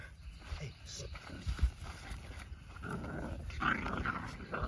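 Male Jack-Knife x Crimson puppies, eight weeks old, growl and scuffle while play-fighting, with low rumbling growls and snarls that rise and fall through the scene as a person's voice talks over them.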